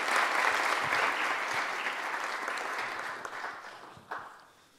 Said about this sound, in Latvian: Ar karstiem vētrainiem aplausiem.